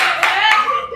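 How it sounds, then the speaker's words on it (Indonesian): Students in a classroom clap their hands after a group wins a class activity: a short burst of fast, overlapping claps, near and fairly loud, with children's voices mixed underneath. "Oke, tepuk tangan."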